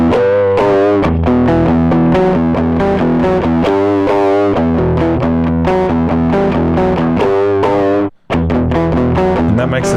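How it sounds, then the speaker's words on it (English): Electric guitar played through The Scream distortion pedal, set for asymmetrical diode clipping with the tone turned up brighter, ringing out loud sustained distorted notes and chords for several seconds with one brief cut-out near the end. "That makes the signal a little bit louder, and it's softening the clipping on one side versus the other to make a more asymmetrical sound"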